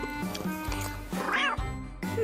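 A cat meowing indoors in a living room, several short meows mixed with voices talking, fairly loud and close.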